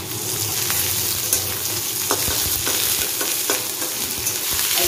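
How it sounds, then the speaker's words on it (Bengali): Onions frying in hot oil while being stirred, with a steady close sizzle broken by a few sharp scraping stirs of the utensil against the pan. "এবার পেঁয়াজটাকে ভালো করে ভাজা হবে"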